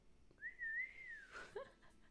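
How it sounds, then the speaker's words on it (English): A single clear whistle from the Disney Magic Kingdoms game's Robin Hood event, a smooth held tone that rises then gently falls, ending with a brief fluttering trill, fairly faint and alone. "Whistles."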